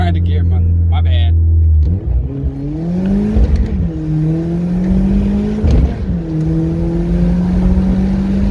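A Hyundai Genesis 2.0 with basic mods shifts from second down to first while driving, its engine droning and rising in pitch between shifts over a voice.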